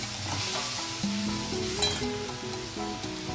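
Chopped banana flower fries in hot oil in a pan while being stirred, a continuous close sizzle with scraping stir strokes throughout and no voices.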